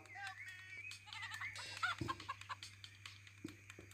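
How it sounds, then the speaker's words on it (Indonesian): Chicken clucks and squawks in a busy soundscape from the video game The Tiger animal simulator, several short calls over a steady low hum and scattered clicks. "Eh ada ayam."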